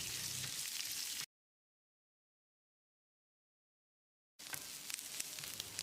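Chopped onions and fenugreek frying in a pan give a steady, close, crackling sizzle that cuts out into a silent gap for a few seconds and then resumes.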